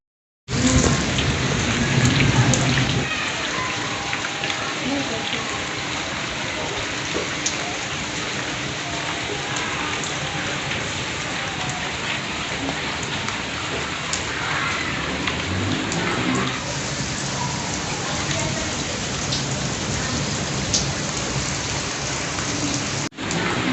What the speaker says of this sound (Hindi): सावन की पहली बारिश हुई है